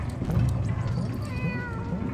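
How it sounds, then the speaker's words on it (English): Caged cats in the video game Animal Well meow repeatedly over a low musical game backdrop, several rising tonal calls in sequence. "We've got some cats in cages."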